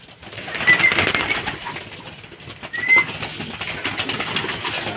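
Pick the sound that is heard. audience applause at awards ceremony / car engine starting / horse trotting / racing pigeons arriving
racing pigeons arriving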